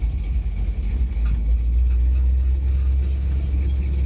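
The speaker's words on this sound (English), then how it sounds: "I'm gonna drive it down the road, and then it's always kind of hard to drive a stick and shoot these videos" A 1978 Dodge Ramcharger full-top convertible with a manual transmission rolls down the road. Its engine produces a loud, steady, low rumble heard from inside the cab, with no speech.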